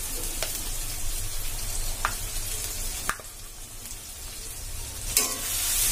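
Tomato, ginger and dry spices sizzling in a pan while chicken keema ghugni is cooked, a continuous close sizzle broken by a few sharp clicks and scrapes of stirring, no talking.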